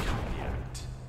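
A gunshot in the video game Enderal: Forgotten Stories cracks out amid steady low rumbling background noise, with a brief bright burst near the end.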